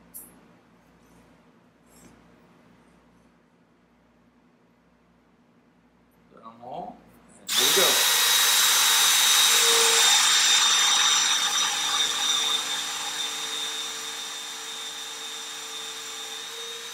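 After quiet shop noise and a brief bump, a power drill starts abruptly and runs with a loud, high whine, steadily boring mortises in wood for a box stretcher and easing slightly toward the end.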